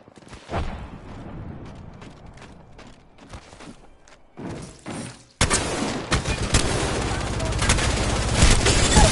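Video game gunfire, with scattered shots and mechanical clatter at first, then a sudden loud, sustained burst of rapid fire that continues to the end.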